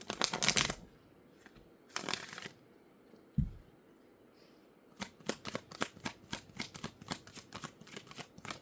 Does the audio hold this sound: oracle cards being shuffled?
yes